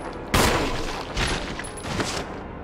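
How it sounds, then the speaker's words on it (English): Gunshots in Resident Evil Remastered HD on PC: three loud, close blasts spaced about a second apart, each followed by a brief decaying tail, with no talk over them. "Shoot him again."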